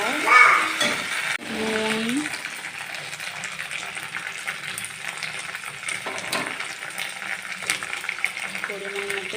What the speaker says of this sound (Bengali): আদা বাটা জিরে বাটা আর লঙ্কা বাটাটা এটা মশলাটা একটু ভাজা হয়ে যাওয়ার জন্য